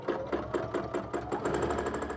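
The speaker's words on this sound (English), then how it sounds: "As I'm sewing, I'm trying to maintain a consistent speed between the speed of the machine and my hands." A sewing machine stitches free-motion stippling on a quilt in a fast, regular needle chatter, close and fairly loud, with slight surges in speed and no talk over it.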